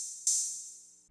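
A single open hi-hat sample for a dark, bouncy synth beat made in FL Studio. One bright, hissy hit sustains and fades smoothly over about a second, heard alone with no voices.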